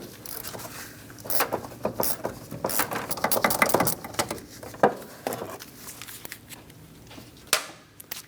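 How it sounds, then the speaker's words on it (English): A 15mm socket wrench removes the master cylinder nuts on a 2003 to 2026 Chevrolet Express 2500 van: scattered metallic clicks, rattles and ratcheting bursts, close and moderately loud, with faint background hum and no speech. "Using a 15mm socket, we're going to remove the nuts on either side of the master cylinder."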